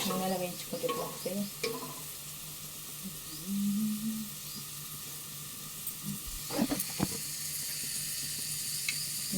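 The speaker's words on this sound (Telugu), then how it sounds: "ఇక్కడ నూనెలో వేయించుకుంటే ఇట్లా వస్తే" Food frying in oil in a home kitchen, a steady broadband sizzle throughout with occasional stirring clatter and brief low tonal sounds.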